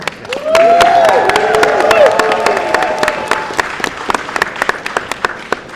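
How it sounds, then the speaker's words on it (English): A press conference crowd breaks into applause with scattered claps and some cheering voices over it, the clapping thinning out toward the end. "Give a round of applause to Speaker Jenkins for her leadership."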